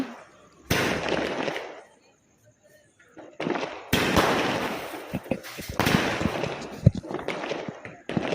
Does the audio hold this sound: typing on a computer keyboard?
no